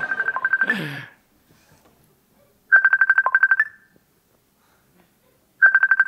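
A phone ringtone signals an incoming Messenger call, sounding as short bursts of rapid, bright repeated tones that stop and start again, with voices talking over the first burst.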